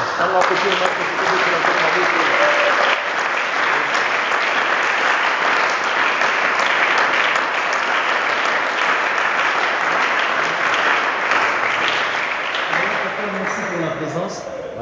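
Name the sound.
audience applause and acclamations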